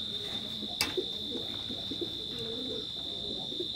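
Imported-bloodline Teddy pigeons coo softly and repeatedly nearby, low murmuring calls under a steady high electrical whine, with no one speaking.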